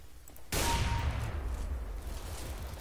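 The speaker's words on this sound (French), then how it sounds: "Il me tire dessus, tu sais, dans mon équipe." Gunfire in Counter-Strike: Global Offensive, one sudden loud burst that rings out and decays slowly over a couple of seconds.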